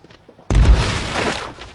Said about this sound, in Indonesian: Tiba-tiba, semua uang itu meledak.